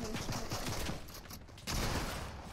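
Rapid bursts of gunfire in the video game Fortnite, a dense rattle of shots for about a second, then a brief lull before the firing returns, loud and close.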